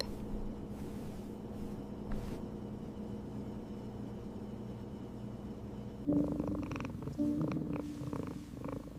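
A cat purrs steadily at close range, a low continuous rumbling throb lasting the whole stretch, growing slightly louder and rougher toward the end, with no talking.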